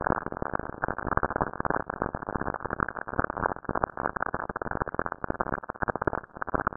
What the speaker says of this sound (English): It's the sound of lightning strikes in Saturn's atmosphere.